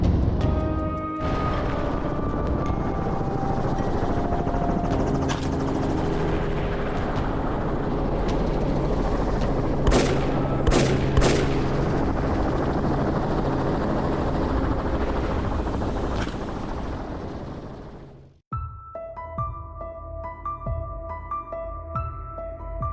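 Helicopter flying low over farmland during a large-scale wild boar hunt in Australia. Its rotor and engine roar loud and steady for most of the clip, then drop off sharply near the end, leaving a quieter, thinner tone.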